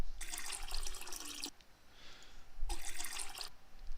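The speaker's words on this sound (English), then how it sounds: "it still sounds like it's running water" A cartoon pee sound effect that resembles running water plays as two bright hissing gushes, each about a second long, separated by a brief quieter gap.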